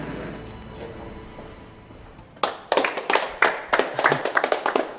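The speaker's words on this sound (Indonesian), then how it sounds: "Udah, nggak usah tepuk tangan." A few people clap their hands in a scene from an Indonesian TV film, starting abruptly after a quiet room tone and continuing as irregular, close, sharp claps.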